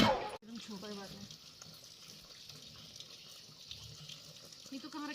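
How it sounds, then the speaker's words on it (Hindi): Clothes are washed by hand in water, with steady splashing and running-water noise throughout while people talk nearby, and a sharp knock near the start. "हम लोग धो रहे हैं कपड़े यहाँ पे इस पानी में"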